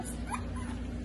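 A puppy at home gives faint, brief whimpers and high yips, soft and fairly close, over a low background hum.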